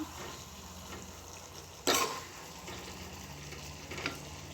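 Salted chicken frying in a pan and being stirred, a soft steady sizzle with a sharp scrape or clatter near the middle and a smaller one later.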